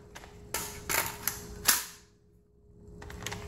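Hexmag 30-round polymer magazine inserted into an AR rifle, a few sharp close metallic clicks and knocks as it seats and locks, then a quiet pause and faint handling taps.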